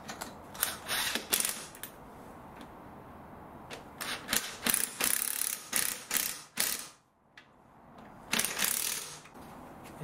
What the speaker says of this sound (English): now I'm going to secure those two Torx